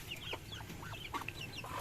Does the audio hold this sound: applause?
no